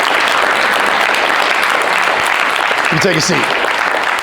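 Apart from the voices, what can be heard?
applause for two ladies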